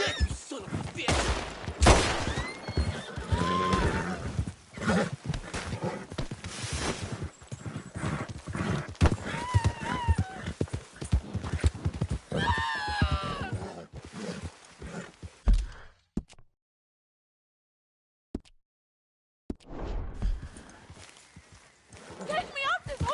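Horse hooves clip-clop steadily through a PS4 video game scene, joined by an occasional neigh, with gunfire bursts and someone talking loudly over much of it before a brief near-silence and a quieter return.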